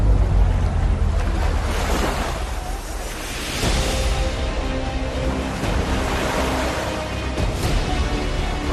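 Sea waves surging at a coastal shrine, a loud continuous roar of surf with rushing water and heavy wind noise on the microphone, swelling slightly midway and sustained throughout, with no voices.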